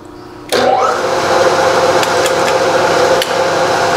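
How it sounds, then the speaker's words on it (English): An angle grinder smooths a metal ring light mount for a milling machine, spinning up abruptly into a loud, steady whining grind close by, with a brief dip near the end. "I can just massage this with the grinder"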